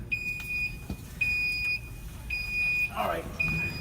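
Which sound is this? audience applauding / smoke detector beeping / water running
smoke detector beeping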